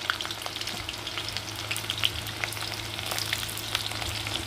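Garlic and two green chillies frying in oil: a steady, moderately loud crackling sizzle with scattered pops throughout and a low hum underneath, no voices.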